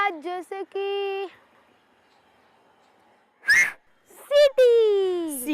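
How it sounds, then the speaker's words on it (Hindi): Plucked rubber bands produce whistle-like tones: a quick run of short notes, then a held tone, a pause with a breathy burst, then more notes sliding downward in pitch, close and clear. "सीटियां बजेंगी जब बजेंगे रबर बैंड"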